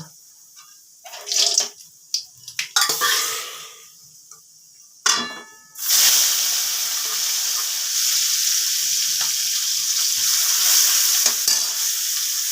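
Flat beans hit hot oil in a wok with dried red chilli and nigella seeds, giving a loud burst of sizzling and frying that settles into a steady hiss, with some stirring clatter before it.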